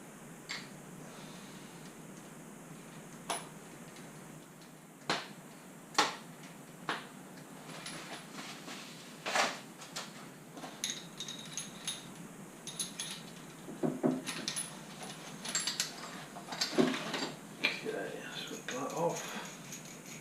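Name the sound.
flexible hose connectors being turned in by hand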